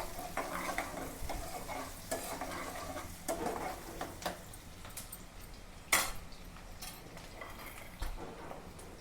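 Chicken fries faintly in a pan with a soft continuous sizzle, punctuated by intermittent clinks and scrapes of a utensil against cookware, heard at a distance and fairly quiet.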